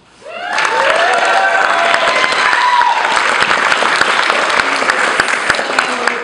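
A large theater crowd at a bookstore-hosted author event breaks into loud, sustained applause with scattered cheers, rising quickly and holding steady for several seconds.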